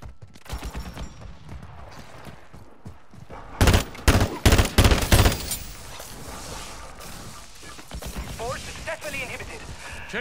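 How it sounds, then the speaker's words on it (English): A gun magazine is swapped in a video game, with metallic clicks and clacks of the reload around bursts of loud, rapid gunfire, and voices are heard in the mix. "Changing mags."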